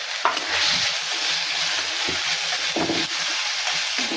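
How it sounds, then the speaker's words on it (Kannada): Onion, tomato and curry leaves frying for paneer gravy, a steady bright sizzle with several clear scraping stirs of a spoon in the pan, close and alone. "ಈಗ ಕರಿಬೇವನ್ನು ಹಾಕ್ತೇನೆ ನೋಡಿ. ಇವೆಲ್ಲನೂ ಚೆನ್ನಾಗಿ ಈಗ ತಿರುಗಾಡ್ತೇನೆ."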